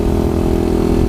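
A 2017 Kawasaki KLX 110 pit bike engine runs loud and steady at close range, a continuous buzzing drone with no break or talk over it.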